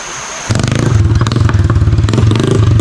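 A motorcycle engine starts up and runs loud and close, a steady throbbing putter with mechanical clatter.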